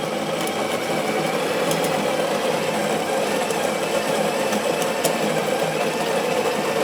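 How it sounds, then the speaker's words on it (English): An electric coffee grinder grinding beans on a coarse setting for a long black, a loud, steady whirring drone that holds level from start to finish with no talk. "And now we're going to grind it. Does a pretty good job grinding it."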